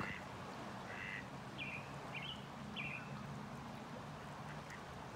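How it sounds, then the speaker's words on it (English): Ducks quack outdoors among green mountains on a sunny day, a few short calls in a row at middle distance over a steady hiss of outdoor background. "ducks out there, birds chirping"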